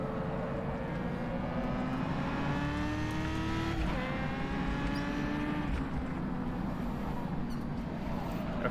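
A historic Formula 2 race car howls at full throttle on the Kyalami circuit, its engine note climbing steadily through the gears with a brief drop at each upshift, loud and continuous.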